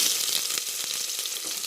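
Onion frying in a pan with kasuri methi and spices for vegetable pulao, a brief, dense, even sizzle heard close up and alone.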